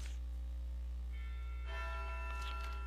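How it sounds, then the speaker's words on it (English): Church bells toll as a funeral chime in the Wild Arms video game, with sustained ringing tones that swell and overlap above a low steady drone, and no talking. "Those are funeral chimes."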